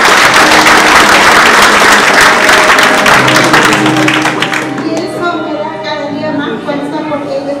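Loud, close audience applause at a product testimonial gathering, many hands clapping densely and then thinning out toward the end as voices and room sound take over.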